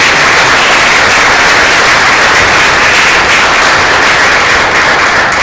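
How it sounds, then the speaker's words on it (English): A panel-session audience at a natural gas supply and demand discussion applauds, a loud, dense and steady wash of clapping that holds for the whole stretch with no voices over it. "can I ask you just to thank very much through your applause"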